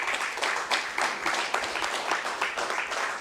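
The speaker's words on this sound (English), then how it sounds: "they deserve a round of applause from all of us" Audience at an early education day event at a state capitol applauds, a dense, steady wash of many hands clapping for several seconds at moderate distance.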